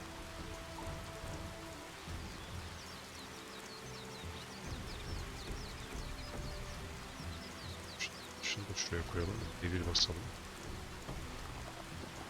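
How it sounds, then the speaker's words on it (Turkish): Steady rain falls in the online game Silkroad Online as a continuous hiss through the whole stretch, with a player speaking over it and a few brief sharp game effects near the end. "Yağmur sesi umarım rahatsız etmemiştir çünkü bana rahatlama geldi."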